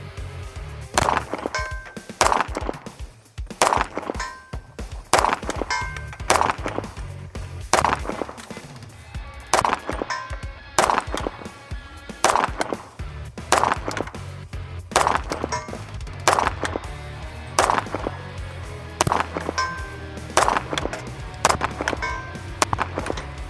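Repeated gunshots from a Kimber 2K11 Pro Comp compensated pistol on an outdoor range, fired in steady strings of loud, sharp reports with brief pauses between groups.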